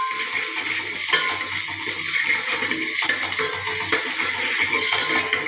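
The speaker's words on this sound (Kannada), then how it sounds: "ಈಗ ಈರುಳ್ಳಿ ಚೆನ್ನಾಗಿ ಗೋಲ್ಡನ್ ಬ್ರೌನ್ ಕಲರ್ ಬರೋ ತನಕ ಫ್ರೈ ಮಾಡಿ ಈರುಳ್ಳಿನ ಹಾಕಬೇಕು" Onions frying in a pan for sambar give a steady broadband sizzle that runs the whole time, with faint stirring and clinks underneath and no talking.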